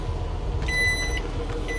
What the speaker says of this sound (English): Now it beeps at you a few times before it comes down.